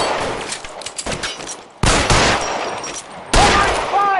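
Gunfire in the L.A. Noire video game shootout: a few sharp, loud shots at uneven intervals, each with a ringing tail, and no talk.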